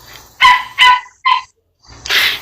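A pet dog at home gives three loud, close barks in quick succession, then a longer, harsher bark after a brief silence, with no voices.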